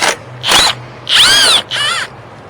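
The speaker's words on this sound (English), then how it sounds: "I'm using an impact socket." An impact wrench with an 18 mm impact socket removing the nut on a front lower hydraulic engine mount of a Chevy Traverse or GMC Acadia, in four short loud hammering bursts separated by brief pauses, with no talk.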